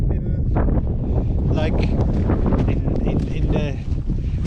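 Strong, steady wind roars across the microphone on an open stretch of the Chilean Pacific coast, loud and buffeting throughout, with a voice talking over the gusts.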